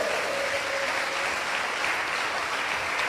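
Congregation at a church service clapping hands in steady, dense applause, loud and continuous throughout with no voices on top.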